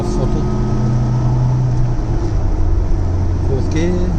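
Interior drone of a 1970 Lancia Fulvia Berlina running at half throttle on the road, a loud, steady low hum with a few slight shifts in pitch.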